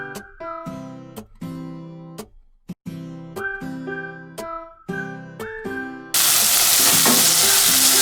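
Onions and tomatoes sauté in a pan for a chicken liver curry. A melodic music passage plays first, then a loud, dense sizzle takes over for the final seconds.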